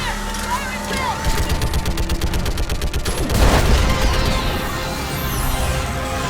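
Rapid automatic gunfire rattles in dense bursts during a Mass Effect 3 firefight on Rannoch against a Reaper, with a heavy boom midway and shouted voices mixed into the battle.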